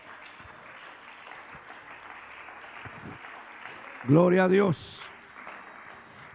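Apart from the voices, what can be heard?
church congregation applauding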